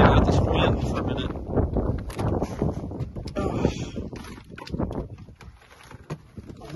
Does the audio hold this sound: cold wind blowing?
yes